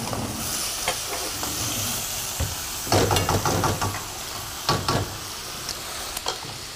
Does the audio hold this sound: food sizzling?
yes